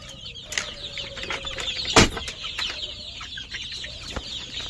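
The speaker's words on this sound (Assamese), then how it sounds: "এইখিনি সৰু পোৱালি।" Young chicks about a month old, kept alongside larger birds in a lit coop, peep and cheep continuously with soft clucks, one sharp louder squawk standing out midway, close and busy, with no talking.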